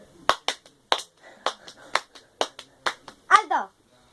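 Children clapping hands in a counting game, about ten sharp separate claps in an uneven rhythm, close and clear, with a brief voice near the end.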